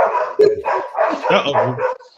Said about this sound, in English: Chill out, dogs.